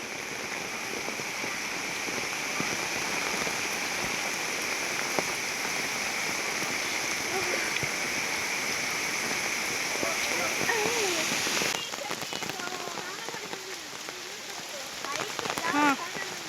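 Heavy rain pours steadily in a forest, a dense even hiss that eases slightly near the end, where a few faint voices come through.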